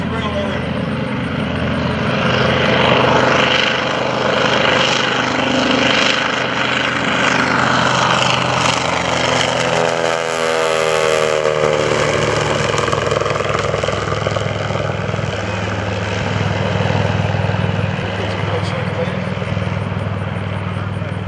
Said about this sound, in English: Here it comes. Running TBM, built by General Motors.